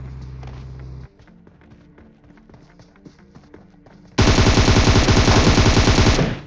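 Rapid bursts of automatic gunfire from a video game fight, a short burst at the start, then sparse shots, ending in a loud, sustained, close volley over the last two seconds.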